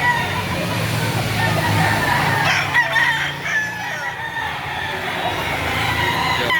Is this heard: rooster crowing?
yes